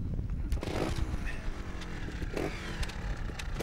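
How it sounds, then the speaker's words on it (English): A 250 trials motorcycle at a teen trials event starts up and runs with a steady, loud rumbling engine noise under outdoor background sound. "Start your bike."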